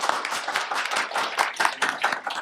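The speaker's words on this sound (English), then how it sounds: "Round of applause for that." Steady clapping from a crowd fills the space, a dense rhythmic patter of many hands continuing evenly throughout.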